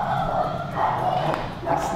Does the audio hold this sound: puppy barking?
yes